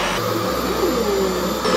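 Revair hair dryer motor switching on and settling into a loud, steady, smooth whine with airy hiss, close up and alone.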